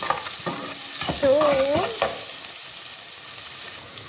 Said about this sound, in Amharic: ሰምታችኋል? እየበሰለ ነው